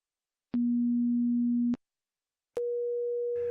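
Two pure sine tones in a 2 to 1 octave ratio sound one after the other: a steady low hum for about a second, a short pause, then a clean tone an octave higher.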